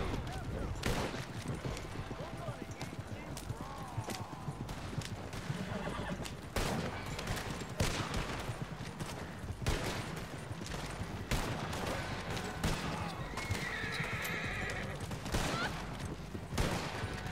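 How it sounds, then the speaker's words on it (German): Repeated gunfire from enemies in a wintry Red Dead Online shootout, irregular shots and bursts cracking through busy game noise, with horse hooves clopping at times and a voice talking over it. "Schießen, da sind Gegner."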